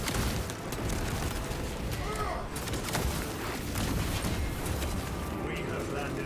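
Heavy defense cannons firing during a Space Marine 2 game battle, a dense continuous barrage of booming blasts and rumbling explosions with voices talking over the din.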